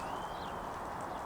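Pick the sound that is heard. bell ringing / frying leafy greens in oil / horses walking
horses walking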